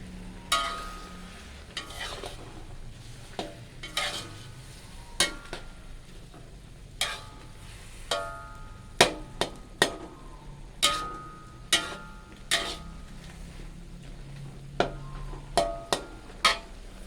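Zucchini and egg stir-fried in a pan: a steady low sizzle runs throughout, broken by a dozen or so sharp spatula scrapes and clinks against the pan at irregular intervals, close and fairly loud, with no talking.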